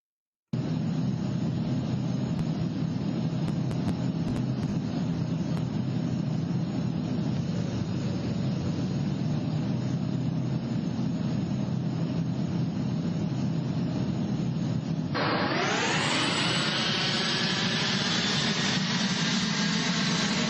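Airliner engines roar in a steady, loud, broadband drone, then abruptly shift to a higher, rising whine near the end, with no talk over it.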